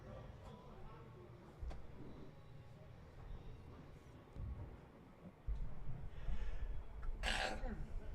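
A single sharp sneeze bursts out near the end, following quieter throat noises and breathing over a low background rumble.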